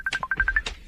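A cellphone rings with an incoming video call, a quick run of short electronic beeping tones in an even rhythm, close and fairly faint, with no talk.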